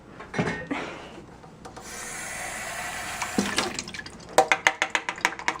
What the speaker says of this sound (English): Oh, I need to rinse this off first.